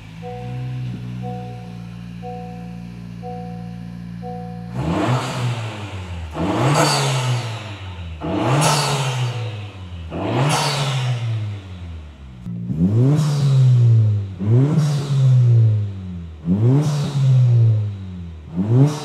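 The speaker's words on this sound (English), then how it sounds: "the N1 cat-back sounds really good on this thing" A 2023 11th-gen Honda Civic Si fitted with an N1 cat-back exhaust, downpipe and front pipe idles briefly, then revs again and again in loud, sharp blips that rise and fall, recorded close up with no talking.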